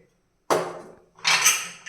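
A pressure cooker holding dal for dhaba-style dal fry is covered with its lid: two close, sharp metallic clanks, about a second apart.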